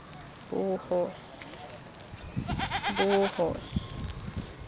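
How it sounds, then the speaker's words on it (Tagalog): Goats bleat nearby in short wavering calls, two early and a louder cluster later, with a person talking in between. "Maririnig mo yung mga kambing."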